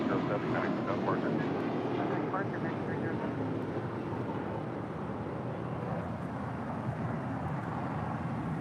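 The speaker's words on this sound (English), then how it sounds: "That was American Airlines Flight 307 heading to, well, somewhere. A321." An American Airlines A321 on flight 307 departs LAX, its engine roar a steady, fairly distant rumble that swells slightly early on, with talk over it throughout.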